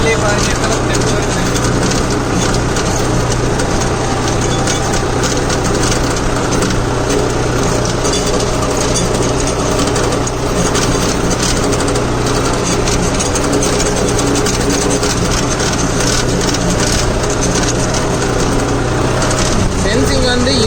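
A New Holland 6010 Excel tractor pulling a duck foot cultivator through a field, its engine a loud, constant droning hum with steady rattling, close up and unbroken throughout.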